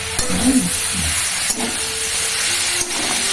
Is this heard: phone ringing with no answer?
no